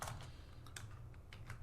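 Typing on a computer keyboard into Notepad, a short burst of light, quick keystroke clicks at an uneven pace, quiet and close-miked over a low hum, with no one speaking.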